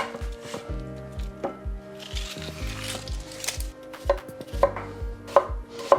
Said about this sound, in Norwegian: Og da skjærer vi opp løken og paprikaen